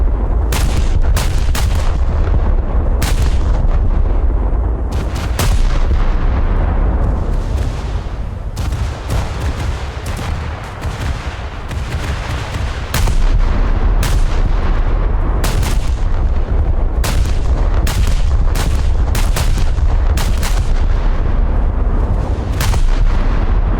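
Scharnhorst's aft naval batteries fire in World of Warships, a relentless series of loud, booming artillery salvos with heavy rumbling low end, dense and repeated throughout, briefly easing before resuming.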